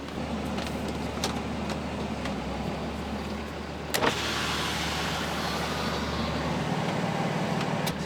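A diesel truck's engine, a compound-turbo 5.9 Cummins with a 5-inch exhaust, drones steadily from inside the cab while driving, a low rumble with a brief thump midway and a slight drop in tone near the end.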